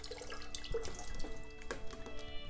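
Water poured downhill across a small pinwheel, a soft running trickle with drips and splashes, steady and close throughout with no talking.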